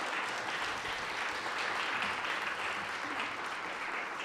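Audience applause for Boston's mayor at a zero net carbon municipal buildings executive order signing; continuous, even clapping heard from a moderate distance, fairly quiet, with no talk over it.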